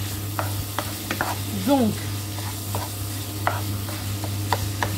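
Ground meat for a family bolognese sauce frying and being stirred in a pan, a steady sizzle with repeated scraping strokes of the spoon, and someone speaking briefly over it.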